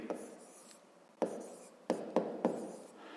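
A pen scratching across paper while a fraction problem for a fifth-grade maths exercise is written out, a few sharp strokes and taps in quick sequence, close and fairly quiet.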